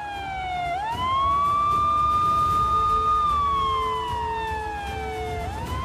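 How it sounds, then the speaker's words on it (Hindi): A siren wails from a passing CBI police vehicle in Chinsurah, West Bengal, rising and holding a long tone before sliding down, with traffic rumble underneath. "सीबीआई की गाड़ियों के सायरन बजने लगे हैं"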